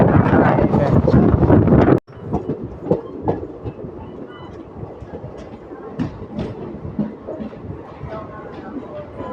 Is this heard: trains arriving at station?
yes